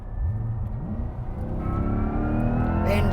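A 2024 Chevrolet Corvette E-Ray hybrid launches at full throttle, its engine rumble climbing steadily in pitch with electric whine layered in, loud and close from inside the cabin.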